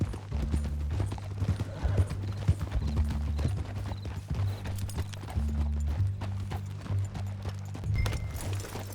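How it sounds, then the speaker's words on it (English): Steady rhythmic clip-clop of horse hooves in Red Dead Redemption 2 at a walking pace, continuous and fairly close, with a low droning hum underneath. "Get back on your horse, John."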